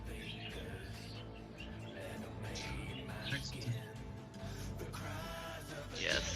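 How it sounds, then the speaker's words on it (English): Birds chirp and tweet in scattered bursts within the Myst Online: Uru Live game world, faint ambient calls sitting under a steady background hum. "as long as you hear the birds"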